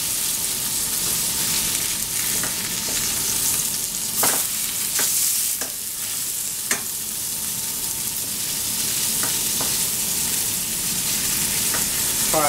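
Salisbury steak patties fry in a pan, a loud, steady sizzle with crackling pops and occasional sharper spits, close and continuous, with no one speaking.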